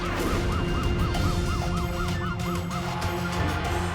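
An ambulance siren wails in a rapid repeating up-and-down sweep over steady road traffic noise, loud and close, then cuts off partway through while the vehicle hum continues.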